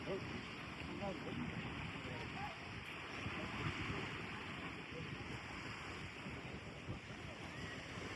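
Calm summer sea at an Auckland beach, a steady, even wash of gentle surf close by, with wind rumbling across the microphone throughout.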